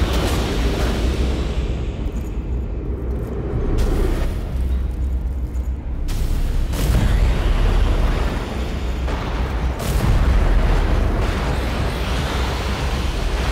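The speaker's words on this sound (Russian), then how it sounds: "И он начнет взрываться." An enemy blowing up in Lords of the Fallen: a deep, rumbling roar of eruptive blasts that swells and surges in several waves, loud and close, with no voices.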